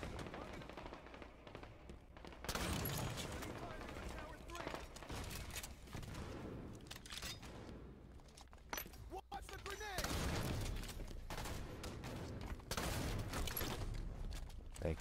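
Shotgun blasts from an invisibility-boosted player in the Halo 5 multiplayer shooter ring out amid dense, continuous gunfire and explosions, loud and sustained throughout, with a player talking over the action.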